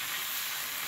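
Mixed vegetables sizzle and fry in a pan with a little water added, making a steady, close, broadband hiss with no talking.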